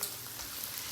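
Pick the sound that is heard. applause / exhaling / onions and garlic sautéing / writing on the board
onions and garlic sautéing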